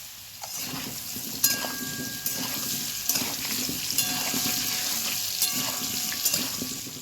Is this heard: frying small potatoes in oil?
yes